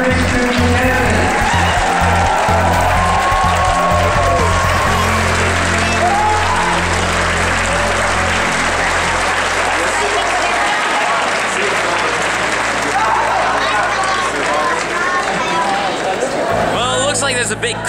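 Loud, sustained applause from a large audience for the 3x3 Rubik's Cube champion at the 2013 Rubik's Cube World Championship finals, dense clapping and crowd noise filling the whole stretch with steady intensity.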